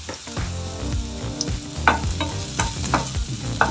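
Onions and curry leaves fry in a pan for a paneer fry, a close, steady sizzle broken by repeated stirring scrapes and clanks, with no talk.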